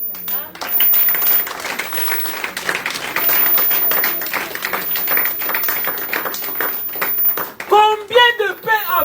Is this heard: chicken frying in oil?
no